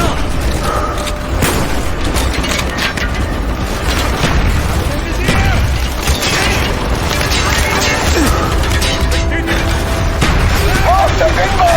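Incoming mortar rounds in Call of Duty: Black Ops, heard as loud booming explosions in a chaotic battle mix with gunfire and shouted voices throughout.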